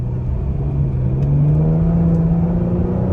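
A Ford Explorer ST EcoBoost engine idles and revs gently through an MBRP aftermarket exhaust, giving a deep, steady, close-up rumble with a slowly rising drone.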